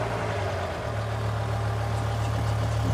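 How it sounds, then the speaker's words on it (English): A BMW M5 E60 V10 idles slightly roughly just after start-up, a steady, close, loud engine drone with a deep hum holding throughout. "I want you to listen to the engine start up."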